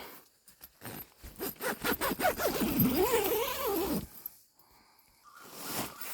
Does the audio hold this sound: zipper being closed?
yes